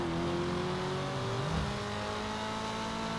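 A Stillen SMZ Nissan 300ZX in GTA Online holds a steady engine drone with a slight rise in pitch, ending in a brief dip and swell near the middle, continuous and moderately loud, with no voices.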